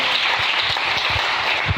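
Church congregation applauding, a dense steady wash of clapping from many hands, loud and close, with no talking over it.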